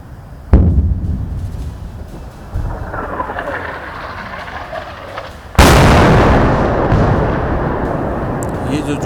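A mortar shell explodes near Poonch by the Line of Control, sharp booms landing close and loud: a short blast, a rolling thud, then a huge broadband burst whose rumble lingers to the end.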